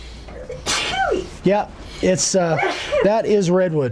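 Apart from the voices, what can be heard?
sneeze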